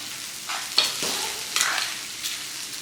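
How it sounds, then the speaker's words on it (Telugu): Tempering being stirred into ground gongura chutney over a low flame, a soft scraping stir with light sizzle in a few short bursts, close and fairly quiet, no voices. "ఈ తాలింపుని మనం ఇంతకుముందు నూరు పెట్టుకున్న పచ్చళ్ళలో వేసుకొని చిన్న మంట పైన అంతా కలిసేటట్లు కలుపుకోండి"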